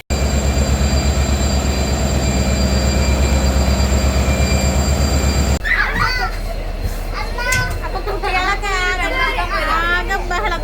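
At a railway station, a train passes with a loud, steady, close rumble for several seconds, then cuts off abruptly as excited children's chatter and shouting take over.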